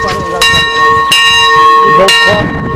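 A church bell is struck several times, each strike ringing out loud and close with sustained metallic overtones that linger between hits, while people talk quietly underneath.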